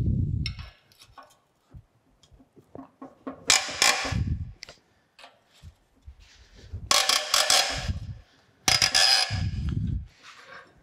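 Wrench working a seized bolt on an old sugar cane mill: bursts of creaking, grinding metal as the fastener turns, separated by low knocks and quiet pauses, close by and moderately loud.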